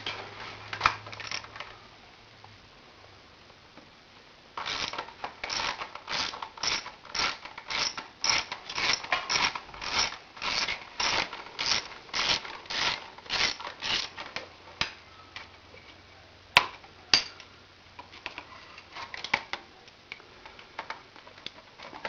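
A 10mm socket ratchet loosening the thermostat housing on a V65 Magna motorcycle clicks in a fast, even run of loud, close ratchet strokes for about ten seconds. A few isolated clicks follow amid quiet workshop background.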